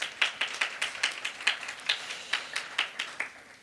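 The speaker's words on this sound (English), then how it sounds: "I think it's worth a round of applause." Audience applause at a fashion event, a thin scattering of individual hand claps in an uneven rhythm, fairly close and modest in volume, without voices.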